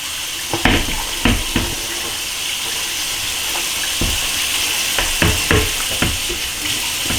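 Tap water runs steadily into a kitchen sink while NuWave oven parts are hand washed, giving a continuous close hiss with occasional splashes and clatters.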